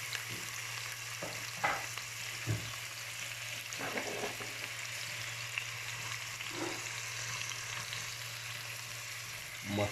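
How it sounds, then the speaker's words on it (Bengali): Onions frying in hot oil as the start of a chicken roast korma, a faint, even sizzle with a few soft stirring scrapes and clinks, no one talking. "আগে পেঁয়াজটা ফ্রাই করে নেব।"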